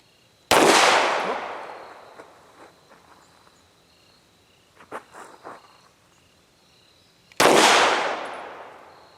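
A Kel Tec P-15 rifle fires two loud, separate outdoor shots several seconds apart, each a sharp crack with a long decaying tail, with faint rustling and thuds between them and no speech.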